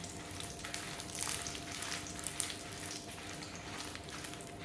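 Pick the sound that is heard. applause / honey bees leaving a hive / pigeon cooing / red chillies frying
red chillies frying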